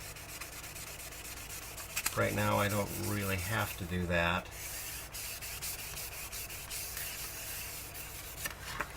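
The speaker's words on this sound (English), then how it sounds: "Just being gentle with the sanding stick." Steady gritty rubbing of a sanding stick across a model starship, continuing throughout, with someone speaking briefly over it partway through.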